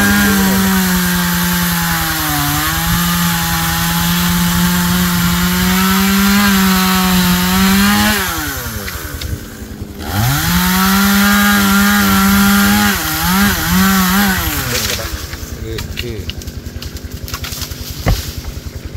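A loud chainsaw runs steadily, its engine pitch dipping and rising as it bites into a large eucalyptus tree, then sputters down toward idle near the end.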